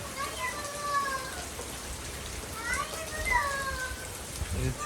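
Heavy storm rain pours down steadily as a broad hiss near a kitchen taking in water, with voices talking faintly over it throughout.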